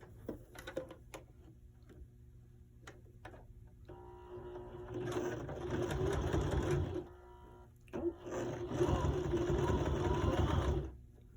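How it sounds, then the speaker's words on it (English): A sewing machine top stitching a zipper seam, a few soft clicks and then two steady rapid whirring runs of stitching, close and moderately loud, the second starting after a brief pause. "I'm ready to go back to the machine and do a top stitch"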